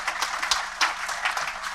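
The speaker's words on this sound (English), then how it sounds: "Round of applause." Conference audience applauding at an agriculture and climate change event, a dense wash of clapping with no voices over it, steady and moderately loud for a couple of seconds.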